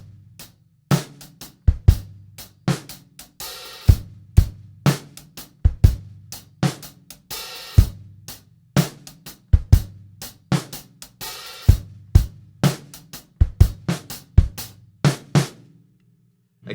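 A drum kit plays bars 11 to 14 of a Grade 4 arrangement with a steady groove of sharp kick and snare hits and occasional cymbal washes. The playing is close and clear, with no talking.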